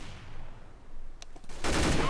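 Gunfire in the video game CS:GO during a competitive matchmaking round: a few sharp isolated shots, then a dense, loud burst of sustained fire near the end.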